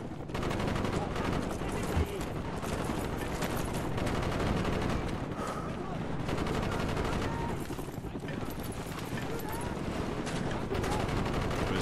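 Dense, continuous gunfire from Call of Duty Black Ops, a rapid rattle of rounds that carries on throughout with voices talking underneath.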